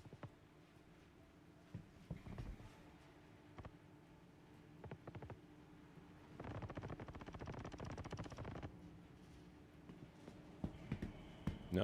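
Video-game gunfire from Star Citizen, an FPS outpost fight: scattered single shots early, then a dense burst of rapid automatic fire in the middle and more shots toward the end, moderately distant under ambient game noise.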